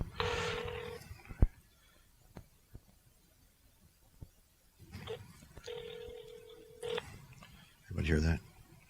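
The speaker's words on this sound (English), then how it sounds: "I'm going to make a long distance phone call here" An iPhone 5 places a long-distance call, giving a steady tone, a pause with small clicks, then a longer ringback-style tone, and ends in a loud rustling burst. The room is otherwise quiet.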